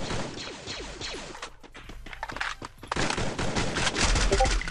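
Bursts of rapid gunfire from Free Fire, with sharp volleys and fast automatic shots crackling in quick succession, fairly close and loud.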